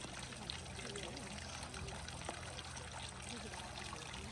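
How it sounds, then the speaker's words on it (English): A garden water feature trickles steadily, a faint, continuous splashing flow heard at some distance with light background noise and no clear talk. "Look at this water feature."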